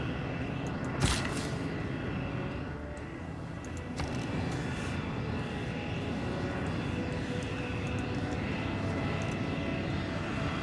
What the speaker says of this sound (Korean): 자 여기선 한 번 더 헬리콥터